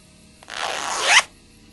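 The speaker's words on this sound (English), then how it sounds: "The zipper on this cushion's stuck." A stuck cushion zipper in Tex Murphy: Tesla Effect makes a single close, rasping pull lasting under a second, rising slightly before stopping abruptly, over faint background music.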